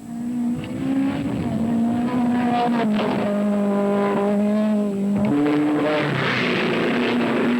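Ian Judd's Twanglia sports racing car climbs the 1972 King Edward Park hillclimb, its engine note rising, dropping with gear changes, then climbing again, loud and steady as it passes close by.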